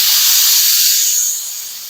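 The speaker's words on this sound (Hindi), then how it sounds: "ये जो सारा प्रेशर है वो हम निकाल देंगे।" A pressure cooker with potato and pea curry vents its built-up steam in a loud, steady hiss that tapers slightly toward the end, heard alone without talk.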